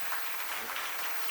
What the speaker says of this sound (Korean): 박수 주시기 바랍니다.